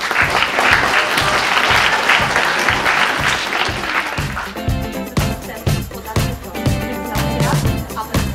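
An audience applauding a contest winner at a school meeting in Katowice: steady, dense clapping from a room full of people, thinning slightly toward the end into more separate, rhythmic claps.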